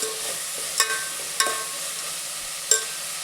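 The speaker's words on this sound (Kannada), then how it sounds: "ಎಣ್ಣೆಲೇ ಕೂಡ ಫ್ರೈ ಆಗುತ್ತಿದೆ" Onions fried in oil in a pan make a soft, steady sizzle, broken by a few sharp clicks of a spoon against the pan.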